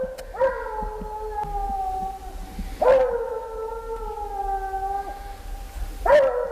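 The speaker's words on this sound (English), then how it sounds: "Well, Josh, is he treed? I think so." A hound bays at an animal treed at the edge of a cornfield on a frosty fall day. Three long, drawn-out howls ring out at regular intervals, loud and echoing, with no talking.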